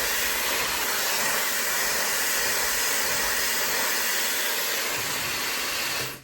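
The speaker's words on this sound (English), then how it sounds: "Very lightweight hair dryer, so easy to use, adjustable speed and temperature level" A lightweight high-speed 1400W hair dryer with a 110K RPM motor blows continuously while drying hair, a loud, steady, airy whoosh with a fine high whine that runs unbroken before cutting off abruptly at the end.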